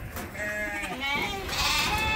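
Sheep in a working herd bleat several times in quick succession, wavering cries overlapping at moderate distance, with faint farmyard noise underneath.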